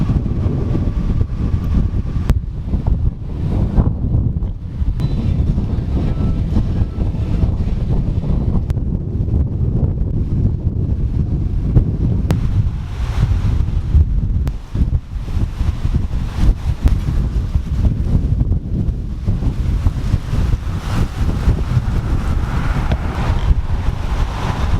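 Hurricane Irma winds in Fort Lauderdale roar as a loud, continuous rumbling buffet against the microphone, steady and broadband with gusting surges throughout and no voices.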